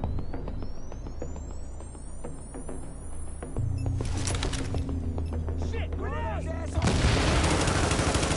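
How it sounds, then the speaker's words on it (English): Gunfire in the video game Tom Clancy's The Division, with sharp, rapid shots and bursts that build into heavier firing toward the end, together with game sounds and a voice talking. "With all that gunfire drawing the Riker's attention, you're gonna have a nice fat bullseye on your back."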